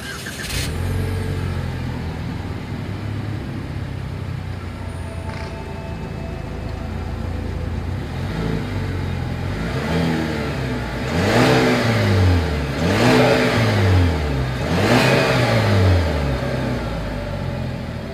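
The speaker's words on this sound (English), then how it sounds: "As always, here is that exhaust clip." A 2021 Chevrolet Malibu sedan engine idles steadily, then revs up three times in rising and falling exhaust swells, loud and close from behind the car.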